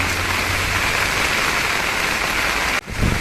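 Heavy monsoon rain pours down steadily and loudly in a village, a dense unbroken hiss of drops on surfaces, with a brief sharp break near the end.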